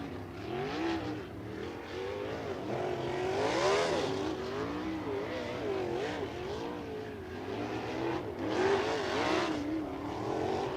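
USAC National Sprint cars on hot laps around the dirt Lincoln Park Speedway, several engines wailing and rising and falling in pitch as they circle, with swells as cars sweep nearer, a continuous distant roar throughout.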